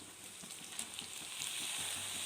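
Onions and tomatoes sizzle steadily while sautéing in a pan for a sundakkai kulambu, a soft continuous frying hiss with faint stirring ticks, close but quiet.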